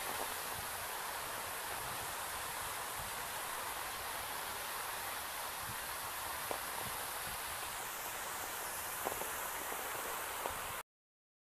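Steady rain falls in Brussels as a dense, even hiss of drops that runs unbroken and fairly loud for about eleven seconds, with a few faint taps on a surface and no voices.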